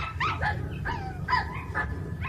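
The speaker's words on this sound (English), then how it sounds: "They heard my whistle and they barked." Several dogs barking in a cellar, heard in an audiobook: a quick run of sharp yips and barks over a low steady rumble, somewhat muffled and close.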